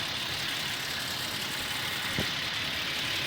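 A new Toyota Tacoma engine with a worsening noise gives a loud, steady drone that runs unbroken throughout, with one brief knock-like thump partway through and no talking.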